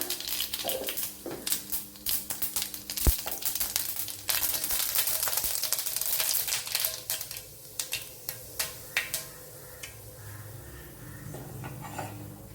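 Fenugreek and mustard seeds sizzle and crackle in hot oil in a pan, a steady close frying hiss broken by sharp pops and spits, with occasional clinks of a utensil against the pan and no talking.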